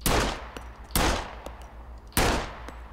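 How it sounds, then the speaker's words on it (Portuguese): Three loud, close pistol shots ring out in the SCUM video game as a pig is shot, each blast sharp and spaced about a second apart, with no talking. "Dois tiros de pistola não morre."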